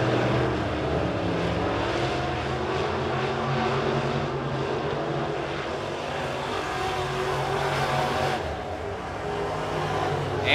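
B-Modified race cars roar around the dirt oval at Springfield Raceway during a heat race, their engines droning steadily at a moderate distance with a rising and falling pitch as they pass through the turns.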